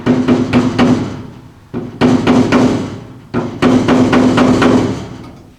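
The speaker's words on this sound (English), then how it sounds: "I'm just taking a flathead screwdriver and gently hammering these little tabs so they bend on the inside" A flathead screwdriver is hammered against the metal tabs of a Jeep J10 tail light socket, giving three loud bursts of rapid, sharp metallic taps separated by brief pauses, close up with no talking.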